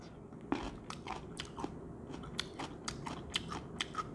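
Close, crisp crunching bites and chewing of garlic pickled in plum syrup, a series of sharp crunches at irregular intervals with no talking.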